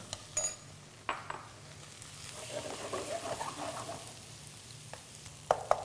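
Chopped tomatoes hit softened onions in a pan and start frying, a soft, steady sizzle with a few sharp clinks of a utensil against the pan at the start and end.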